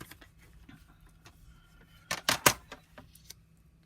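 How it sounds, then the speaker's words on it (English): Paper being cut on the diagonal for a small handmade journal and ephemera holder: a quiet stretch, then a cluster of three or four crisp, close cutting snips near the middle. "I'm going to cut this on the diagonal."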